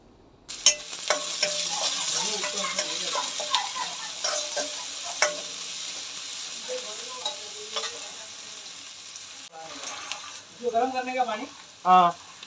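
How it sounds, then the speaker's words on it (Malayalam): Chopped onions sauté in hot oil for a fried rice, giving a steady bright sizzle with scraping stirs throughout and a few louder spoon knocks near the end; no one speaks. "അതിലേക്ക് നമ്മൾ ഈ അരിഞ്ഞ സവാളയും കൂടി ഇട്ടൊന്ന് വഴറ്റിയെടുക്കാം"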